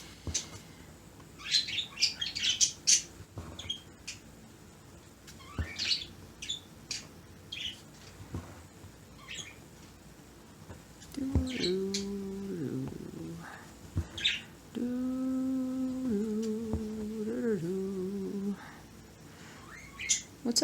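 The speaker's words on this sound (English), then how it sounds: "What's up, birdies?" Scattered bird chirps and tweets sound at a moderate distance, coming in short bursts with a couple of longer tonal calls later, over a quiet background.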